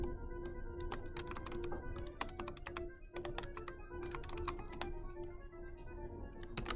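Computer keyboard typing in quick bursts of crisp key taps and a few heavier thunks, close and fairly quiet, with a steady background hum and no talking.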